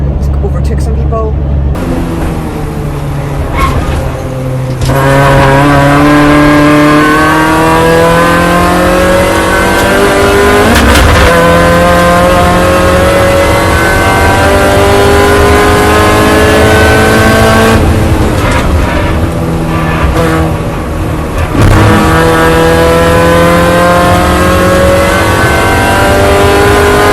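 Mini Challenge race cars at Castle Combe roar loudly from close by, engine pitch climbing and dropping through repeated gear changes, with brief speech over the onboard engine noise.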